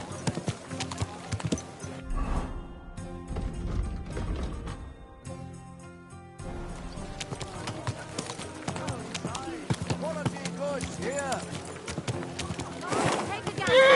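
Horse hooves clip-clop in the medieval video game Kingdom Come amid music and speech, with a horse whinnying, steady footfalls moving under voices and mechanical clicks.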